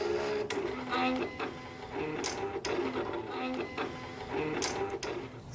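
Silhouette cutting machine slicing vinyl for glass etching: a steady mechanical whir with repeated short rhythmic passes and clicks as the carriage moves, close and continuous throughout.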